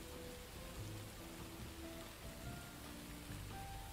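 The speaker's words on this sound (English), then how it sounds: "as the rain kind of pours down from above, Dante" Steady rain pours down over a tabletop fantasy game session, a continuous hiss that fills the clip at moderate level with faint tonal music underneath and no talking.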